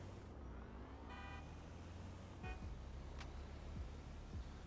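Car horns honking in the GTA 5 video game, a few short toots and beeps scattered over a quiet, steady traffic hum, faint and without talk.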